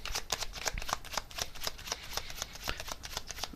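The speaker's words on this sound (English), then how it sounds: "I'm just going to get one more tarot card here on this." Tarot cards are shuffled close up, producing a rapid, continuous train of soft riffling flicks and slaps, fairly quiet and without talk.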